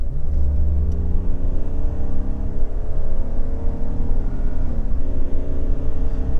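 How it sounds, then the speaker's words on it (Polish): Road noise from the tyres of a BMW 530i E39 on the move, a loud steady rumble and drone with the engine humming beneath it, constant throughout with no talking. "Te opony są głośne, ja je słyszę."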